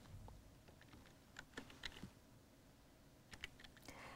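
A computer keyboard clicks in short irregular runs of taps, faint and close, in a quiet room with low background hiss.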